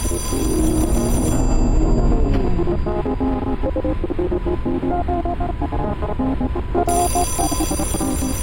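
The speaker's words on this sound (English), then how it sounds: "There's the phone." A telephone in the video game Echostasis rings in a steady electronic trill over a low throbbing hum, sustained for several seconds and fairly loud, with no one talking.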